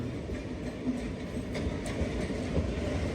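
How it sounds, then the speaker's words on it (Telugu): An express train from Hazrat Nizamuddin to Trivandrum passes close by with a steady, loud rumbling roar and faint rhythmic wheel clatter, with no voices. "ఇప్పుడు హజరత్ నిజాముద్దీన్ నుంచి త్రివేంద్రం అయితే వెళ్తుంది ఆ ట్రైన్."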